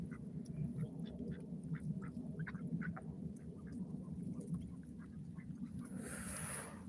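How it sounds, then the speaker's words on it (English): Ducks quack repeatedly in short, scattered calls from several birds at a chicken and duck coop, over a steady low rumble of movement, with a brief hiss near the end. "since they're all quacking and having a good conversation here"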